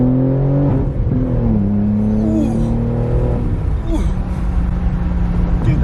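A BMW car engine revs and accelerates from inside the cabin, a loud close drone climbing through gear changes with rising and falling pitch, while people talk over it.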